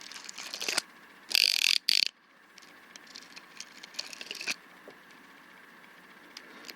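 A Yankee #35 spiral ratchet screwdriver in excellent condition gives sharp bursts of rapid ratcheting clicks close by, with a couple of loud bursts early and then lighter intermittent clicking, with no talk.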